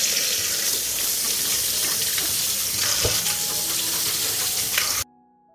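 Fresh tomatoes are washed under a running tap, giving a continuous close splashing hiss of water that stops suddenly, leaving near silence.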